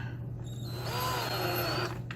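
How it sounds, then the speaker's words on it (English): A cordless drill drives a tap into a 6-32 hole while a lock is being made, giving a close, steady whine that rises and wavers in pitch before trailing off, over a low background hum. "Get your cordless drill out."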